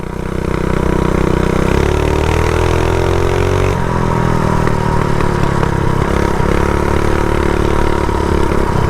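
A custom minibike fitted with a GoPowerSports front end and small tires runs steadily nearby, its mid-pitched engine droning with pitch shifts as it rides, loud throughout with no talk.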